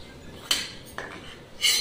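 Light, crisp clinks and rattles of small fried wheat-flour papdi knocking against a metal utensil, three brief bursts spaced apart, close and fairly quiet.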